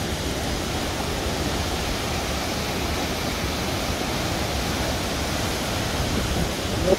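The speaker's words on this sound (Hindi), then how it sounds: "ये सिकंदू पहुँचे हैं तो पानी की आवाज़ आई है" Rushing river water near Skardu on the Chilas road in the mountains gives off a steady, dense roar that holds constant and loud throughout, with no voices over it.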